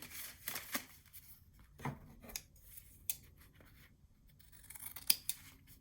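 Close, quiet scissors snip and trim patterned paper for a small handmade mini album, with a handful of sharp separate cuts and light paper rustling between them.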